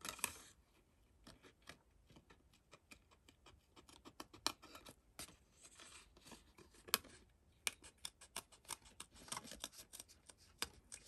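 Scissors snip through gel-press-printed card stock in a quick, irregular series of crisp close cuts, the card turned between strokes, with no voices.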